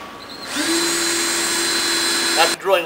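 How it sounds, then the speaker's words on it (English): A power drill bores holes into the floor joist of a box truck while an HTS cone cradle is clamped in place, giving a loud, steady whine that stops abruptly before a voice comes in. "open the unit, and drill the holes."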